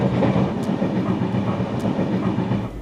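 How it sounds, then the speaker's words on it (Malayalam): A train rolls along the rails with a steady, loud rumble and a faint clickety-clack of wheels, a continuous close sound with no voices. "ഭാഗ്യം, ട്രെയിൻ എടുത്തല്ലേ."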